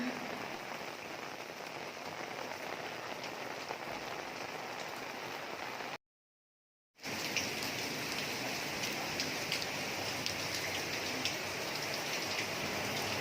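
Downpour of big-dropped heavy rain drumming on surfaces outdoors, a thick unbroken roar broken only by a brief second of silence midway, with no talking.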